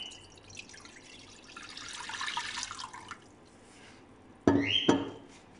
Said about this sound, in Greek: Σε μία κατσαρόλα βάζω το νερό